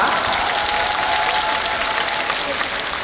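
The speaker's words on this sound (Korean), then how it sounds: "우리 감독님께 박수 부탁드리겠습니다" A large audience applauds the film director at the Busan International Film Festival opening screening. Dense, sustained clapping fills the hall from start to end, loud and even, with no voices standing out.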